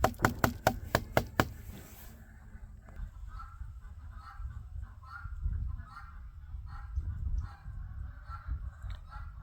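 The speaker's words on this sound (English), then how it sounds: "they definitely want out of that chicken coop" Chickens cluck and squawk in a coop on a homestead, their calls busy and overlapping, after a run of sharp rhythmic knocks at the start.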